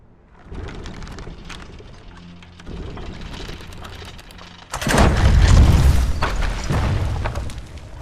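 A trebuchet boulder slams into a base in Conan Exiles: after a rumbling, crackling buildup comes a loud, heavy crash that rolls on as debris, dense and close, with no talking.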